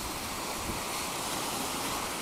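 Strong wind roars steadily against a small Hubsan 502e quadcopter drone flying outdoors, a constant loud rushing noise that stays even the whole time with no other sounds.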